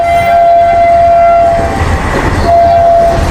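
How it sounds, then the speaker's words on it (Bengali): A train passes close by at a railway crossing, a loud steady rumble of wagons with two long horn blasts, one at the start and another near the end. "যে ট্রেন যাচ্ছে এখন, দেখতে পাচ্ছ ভিউটা কিরকম"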